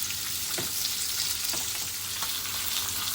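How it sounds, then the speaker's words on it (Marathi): Fish masala fry cooking in a hot pan, thapa fish coated in masala: a continuous close sizzle with faint crackles and a couple of soft stirring scrapes, no voices. "एक साईडने पहिले दोन मिनटं शिजवून घेऊया फ्राय करून घेऊया"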